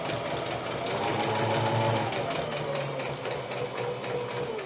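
Small sewing machine stitching a double-sided fabric placemat, a loud close steady run of rapid needle strokes with a motor hum throughout, alone without talk.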